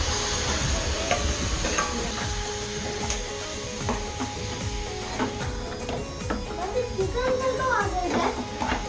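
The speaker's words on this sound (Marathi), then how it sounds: "आता देऊया माखल्यांना फोडणी" Octopus sizzles as it is tempered in a frying pan with spiced masala, with stirring and scraping clatter close by. A voice talks over the cooking throughout.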